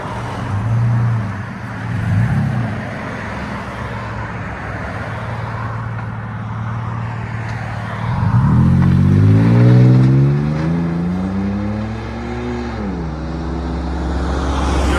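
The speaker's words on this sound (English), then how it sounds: "(2014) Toyota Tacoma, MagnaFlow 18-inch body, duals into black tips. Came out sounding phenomenal." A 2014 Toyota Tacoma with a MagnaFlow 18-inch muffler and dual black tips idles close by with a low, steady rumble, then revs up and falls back in a couple of rising and falling swells before settling to idle.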